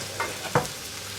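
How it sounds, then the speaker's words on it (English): Capsicum, onion and carrots fry in a pan for a tuna bake, giving a soft, steady sizzle with a couple of brief stirring scrapes, close and fairly quiet. "capsicum, onion, carrots, all cooking along in there"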